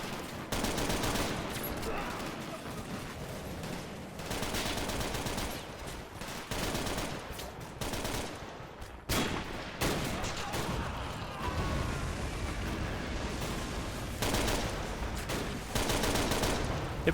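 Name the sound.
machine gun fire in a Totaler Krieg mod battle, from a video game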